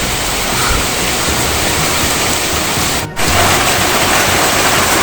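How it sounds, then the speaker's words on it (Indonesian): Heavy rain pouring down outdoors near a mountain base camp, a loud, dense, unbroken hiss that fills the whole stretch, with a brief dip just after the midpoint. "Hujan deras masih mengguyur."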